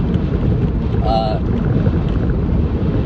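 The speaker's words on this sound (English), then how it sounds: "I'm sure y'all can hear the wind." Loud, constant wind buffeting the microphone with a deep rumbling roar throughout, heard while driving, and a brief faint tonal sound rising above it partway through.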